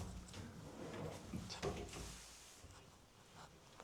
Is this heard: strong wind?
no